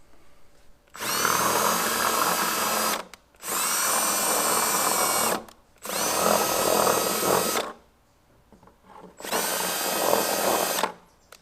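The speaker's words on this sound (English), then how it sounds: "I think my drill died, and I think that's the problem." A cordless drill on a fresh battery whirs in four bursts of about two seconds each, separated by short pauses, loud and close with a high motor whine.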